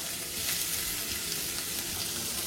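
Green chilies, curry leaves, carrot and onion fry in a pan with a dense, steady sizzle and crackle, loud and close, with no talk over it.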